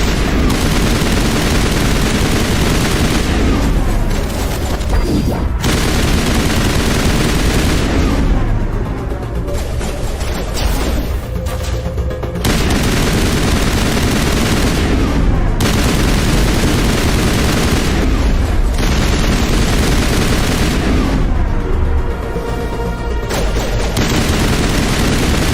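Sustained assault rifle fire in Mass Effect Legendary Edition, loud and close, with long automatic bursts and rapid crackling shots broken by short pauses and a few heavier booms, and no talk over it.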